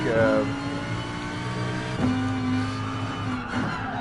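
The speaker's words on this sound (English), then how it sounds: "bottom of my car is hitting the ground. You can hear that shaking." A lowered car's underside scrapes the track in Gran Turismo Sport, a steady engine drone with rattling and shaking noise throughout, accompanied by a brief rising tire squeal.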